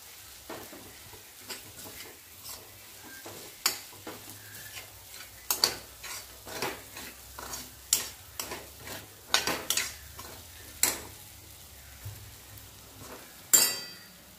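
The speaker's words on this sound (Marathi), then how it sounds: "असंच कमी गॅसवर हा हलवा भाजून घ्यायचे बघा, मूग डाळीचं" Moong dal halwa being stirred and roasted in ghee over a low gas flame, soft sizzling beneath irregular clicks and scrapes of a spoon against the pan, close and fairly quiet.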